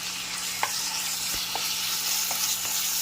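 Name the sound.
boneless chicken frying with ginger and garlic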